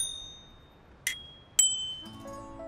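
A children's bicycle bell rings twice, two bright, clear dings about half a second apart that ring on briefly in an otherwise quiet setting.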